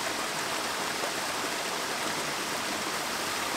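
Heavy rain pours down outdoors as a steady, dense hiss with no breaks, fairly soft and even throughout, with no voices.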